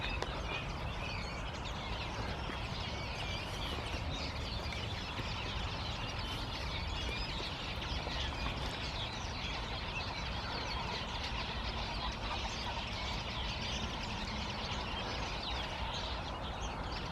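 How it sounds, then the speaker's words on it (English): A dense outdoor chorus of birds near an ancient hill site close to Salisbury Plain, steady and unbroken, with overlapping chirps and clucking calls that hold the same level throughout. "Hello, beautiful birds."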